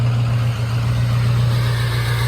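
A truck engine idles steadily close beside its exhaust, a loud, constant low rumble with no breaks, heard while a camper is being moved.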